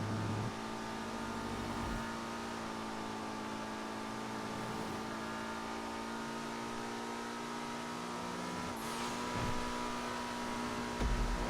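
A Benefactor LRC GT in GTA Online runs with a steady, sustained engine drone held at nearly constant revs, then a brief shift in pitch near the end.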